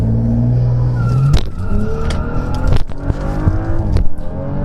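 A BMW 435i launching with launch control, engine revving high then surging through rapid gear shifts as it accelerates hard, loud and close with rising, stepping engine pitch.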